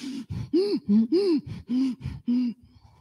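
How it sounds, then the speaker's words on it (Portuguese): A woman demonstrates short, shallow chest breathing of stress, a quick run of about eight voiced, gasping breaths in close succession, each brief and distinct. "Como é que é uma respiração curta de estresse? É aquela aqui, ó."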